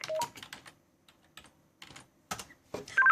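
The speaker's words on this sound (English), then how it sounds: "So I just type in a message there to Mo." Key presses on a Motorola DM4600 radio as a message is typed in: irregular bursts of soft plastic clicks, some quick runs and some single taps, separated by short pauses, close and fairly quiet with no talk.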